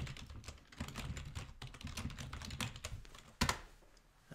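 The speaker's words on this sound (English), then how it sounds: "You can type in your name." Typing on a computer keyboard while entering a name during a Google Earth geologic mapping exercise, with steady fast clicking keystrokes up close and one sharper louder clack near the end, no voices.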